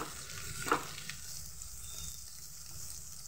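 Potatoes and egg fry with onion in a kadai after turmeric and salt go in. A quiet, steady sizzle runs under a few faint stirring scrapes, with one brief clatter near the start.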